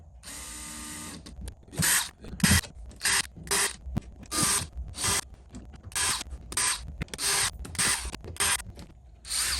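A power driver removes Phillips head screws from a boat fitting while a Garmin sonar unit is installed, making repeated loud, close whirring bursts of a second or so each, separated by short pauses.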